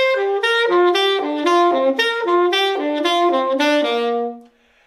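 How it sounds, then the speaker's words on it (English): A melodic instrument plays a pentatonic scale in interval skips, with clear, evenly spaced single notes stepping up and down in a bright, steady run that ends in a brief pause. "You should try to play the pentatonic scale in intervals."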